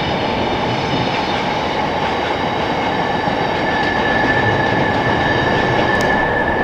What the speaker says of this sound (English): there's a freight train just going through